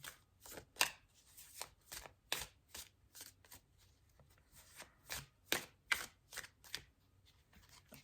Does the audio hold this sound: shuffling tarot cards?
yes